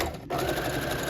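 Sewing machine stitching a tiny rolled hem on a delicate dress fabric, a brief close burst of rapid, even stitching that stops abruptly.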